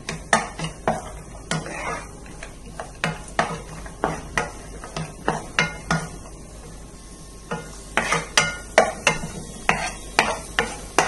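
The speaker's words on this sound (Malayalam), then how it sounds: "ഇത് നമുക്കൊന്ന് നെയ്യിൽ വറുത്ത് കോരിയെടുക്കാം." Cashews and raisins frying in ghee in a pan for mango rava kesari, with a steady soft sizzle under repeated sharp clinks and scrapes of a spoon stirring against the metal pan.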